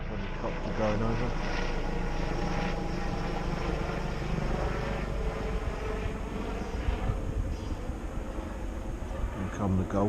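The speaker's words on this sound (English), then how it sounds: "Helicopter going over." A helicopter passes overhead at a lakeside fishery in November, a steady low rotor drone that holds throughout, with someone talking quietly at times under it.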